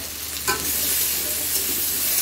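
Hilsa fish fries lightly in oil in a wok, giving a steady, close, dense sizzle with a brief stirring scrape near the start and no talk.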